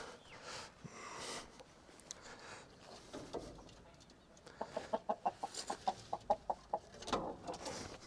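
Roosters and hens cluck and call on a hot evening farmyard, starting with scattered calls and rising midway into a quick series of sharp repeated clucks, moderately close and fairly quiet.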